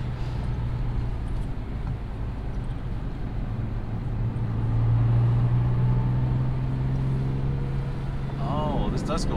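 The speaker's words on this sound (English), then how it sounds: "the supercharger whine noise is really cool" A supercharged first-generation Lexus IS200 on a small track, its steady engine drone with a rising whine band building midway, loud and continuous, with brief voices near the end.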